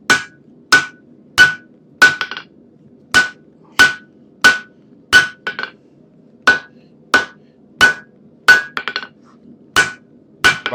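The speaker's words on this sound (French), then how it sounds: "bah ça fait le taf, hein" A newly hand-forged hammer strikes metal in a steady rhythm of about fifteen sharp, ringing blows, loud and close, with a few quick double taps between them.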